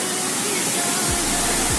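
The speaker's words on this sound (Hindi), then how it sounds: "ऊपर से पानी गिरता है" Water falls from above into a pool, a dense, loud, continuous roaring rush with broad spray hiss, steady throughout, with a couple of low thumps late on.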